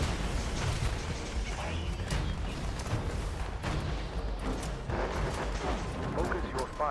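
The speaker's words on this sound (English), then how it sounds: "Plasma grenades." Plasma grenades burst amid heavy combat in Fallout 76, a dense, loud wall of booming blasts and gunfire that runs without a break, with a voice talking over it.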